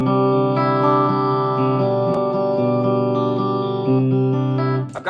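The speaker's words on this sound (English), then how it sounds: "Then I got an extra reverb setting, so I kick on another reverb." Sustained electric guitar chords with an extra reverb pedal engaged, ringing notes washing into a long, smooth tail; fairly loud and alone, with a chord change near the end.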